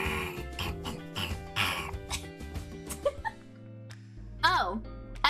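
A person vocally imitates a pig squealing in a fight, with strained, wavering squeals near the end. Throaty grunts and other voices talking come before it.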